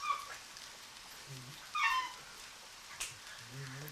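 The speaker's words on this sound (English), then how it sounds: "you hear the dogs are trying to play" Dogs playing in the video game Deadly Premonition: a few short, high, whiny cries at scattered moments over a quiet background, moderately loud.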